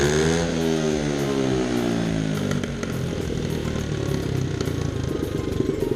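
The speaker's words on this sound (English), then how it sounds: "Oh, I want to listen to it rev this time. Alright, let's see how loud it gets in the garage." A dirt bike engine revs up in a garage, its pitch climbing steeply over the first seconds, then settling into a loud, rough, sustained roar that fills the enclosed space.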